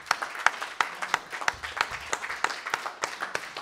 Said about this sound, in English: Let's give the Lord a hand clap this morning.